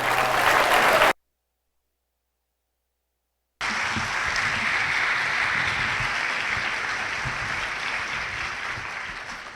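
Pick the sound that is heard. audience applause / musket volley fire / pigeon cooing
audience applause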